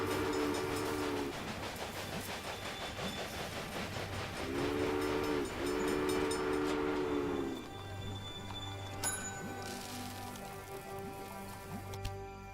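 A train running in the Railway Empire video game rumbles steadily while a steam whistle sounds in two long blasts midway, then the rolling continues more quietly; no one speaks.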